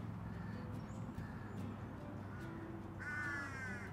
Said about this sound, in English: We got the crows over here taking a little bath, and they're quite vocal.